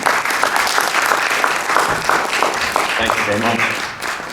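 Audience applause welcoming a speaker to a talk about the Norman Rockwell painting mystery, steady clapping filling the room for a few seconds, with a voice thanking the crowd over it.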